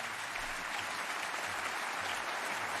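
Concert audience applauding, a dense, even patter of many hands clapping continuously at moderate distance, with no voices standing out.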